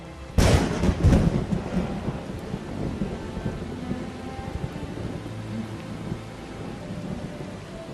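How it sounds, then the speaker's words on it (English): The first rain in eight months falls in the wild, opening with a loud, booming thunder roll that fades into a steady hiss of rainfall. "The first rain for 8 months."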